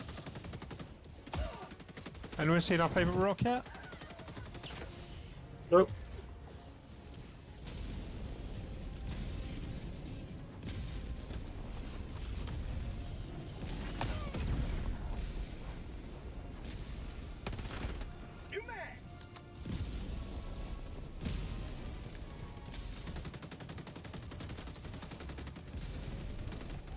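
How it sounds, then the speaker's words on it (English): Walking barrage artillery strike in Helldivers 2, a steady stream of gunfire and booming impacts rolling on throughout, with a sharp louder blast early on and people talking over the din. "Fire mission, walking barrage."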